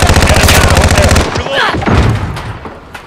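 Rapid automatic gunfire in Modern Warfare hammers out loud and close in a fast steady stream, then breaks into a few scattered shots and clatter.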